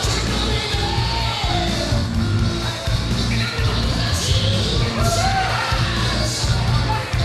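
Wrestling crowd at a York event cheering and yelling for the axe-carrying wrestler Chuck Wood, a dense continuous roar of shouts and whoops filling the whole stretch, loud and steady with no single voice standing out.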